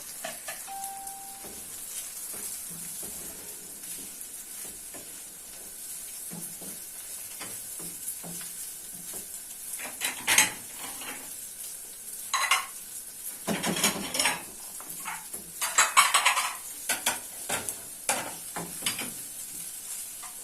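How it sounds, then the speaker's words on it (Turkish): Rice for pilaf frying in a pot, heard as a continuous sizzle while a utensil stirs and scrapes against the metal, the scraping growing busier and louder in bursts toward the end. "Az daha kavur bunu"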